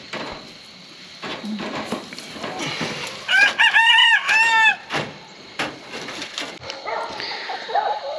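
A rooster crows loudly and close by from inside a chicken tractor, with clucking hens, light farmyard bustle and faint work noises around it.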